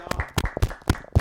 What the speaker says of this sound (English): Can we get a round of applause for Nick's research?